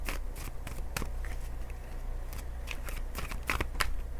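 A deck of tarot cards being shuffled by hand, giving quiet, irregular riffling and snapping clicks in short bursts over a low steady background hum, with no talking.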